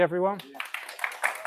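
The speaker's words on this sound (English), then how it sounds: "Round of applause for Gary" A handful of people at an aquascape workshop give a short, scattered round of claps for a volunteer, following a brief spoken word.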